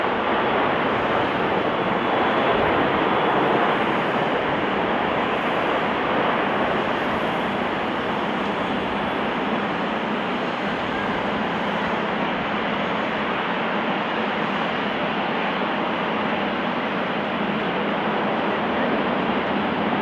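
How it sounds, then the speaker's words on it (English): Airbus A340 airliner coming in to land too fast without flaps, a steady loud roar of jet engine and rushing air filling the whole stretch with little change, no voices. "This Airbus A340 landing too fast due to a flaps issue"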